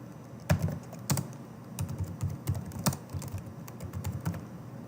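Typing on a computer keyboard while entering a customer name into a search field: quiet, close clicky keystrokes in irregular bursts and clusters, with no speech over them.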